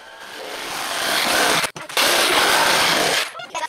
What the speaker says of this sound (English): so I drill a hole with my drill first as a starting point for my jigsaw